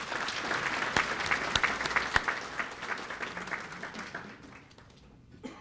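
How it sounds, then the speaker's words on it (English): An audience at a newspaper's everyday heroes awards event breaks into applause, with several sharp individual claps standing out early before the clapping thins and fades toward the end. "How about a round of applause?"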